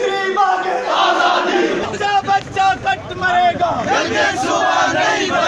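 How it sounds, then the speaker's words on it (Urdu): A crowd of lawyers at a Kashmir rally in Hajeera shouts slogans together, loud, dense and continuous, with rhythmic bursts of massed voices throughout. "وکلاء تقسیم کشمیر اور مقبوضہ کشمیر میں بھارتی ظالم کے خلاف شدید نعرہ بازی کر رہے تھے"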